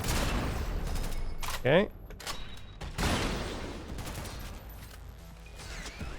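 Pistol shots ring out in the Synthetik 2 video game as a few sharp, separated cracks mixed with mechanical clicks and a chirping effect, while someone briefly speaks.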